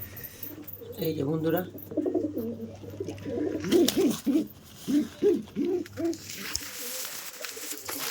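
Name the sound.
pigeon cooing, a newly caught pigeon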